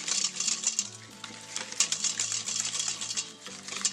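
Cake batter being whisked by hand in a bowl, a rapid rhythmic scraping and tapping that runs steadily throughout at moderate loudness, with no talking.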